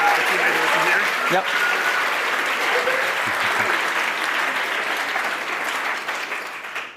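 An audience at a university game programming lab's final presentations gives sustained applause for presenters, steady crowd clapping that slowly fades toward the end while a voice speaks briefly over it.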